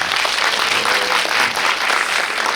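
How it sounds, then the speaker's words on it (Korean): A theater audience at a post-screening talk with the film's actors and director gives dense, steady applause, loud and continuous throughout with no talk over it. "큰 박수 한번 부탁드립니다."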